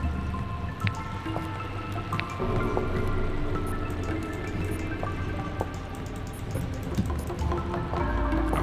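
Water runs through a pipe in the video game A Wolf in Autumn, heard as a close, continuous trickle with scattered pitched drips and gurgles.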